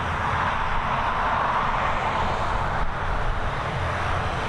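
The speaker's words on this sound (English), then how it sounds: "We have our next arrival on approach now." An airliner on approach to Dublin Airport, a steady broadband engine roar holding at a constant level throughout, distant and continuous with no voices.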